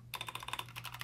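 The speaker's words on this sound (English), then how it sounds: "type the following command" Quick, light keystrokes on a Mac computer keyboard as a Terminal command is typed, about a dozen close, crisp clicks in an uneven rhythm with no talking.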